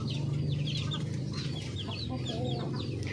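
Darag native breeder hens clucking softly in a roomy coop, several birds with brief overlapping calls over a steady low hum, close and continuous.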